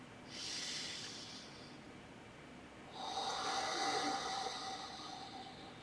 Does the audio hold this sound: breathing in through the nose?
yes